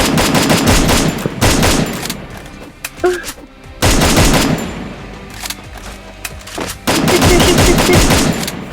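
Video game gunfire rattles out in loud, rapid automatic bursts, several long volleys separated by brief pauses, close and dominant.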